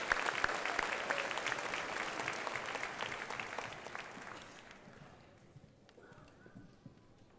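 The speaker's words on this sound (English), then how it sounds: "Let's give Judy a round of applause for her commitment to our students" Applause at a 2016 commencement ceremony rises as a dense wash of clapping, then thins and fades over the final few seconds, fairly distant and faint.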